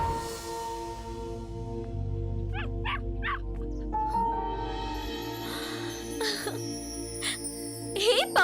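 Puppy giving a few short yips and barks amid faint jingling, set against a quiet background of film score, with brief voice-like sounds nearby.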